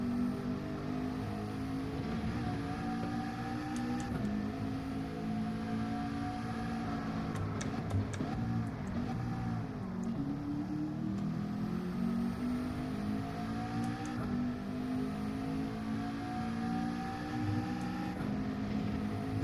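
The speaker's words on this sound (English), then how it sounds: "Do need to rev this car out." A race car engine in Gran Turismo 7 at Bathurst drones steadily at high revs, its pitch rising and dipping with gear changes through the corners, continuous and fairly loud.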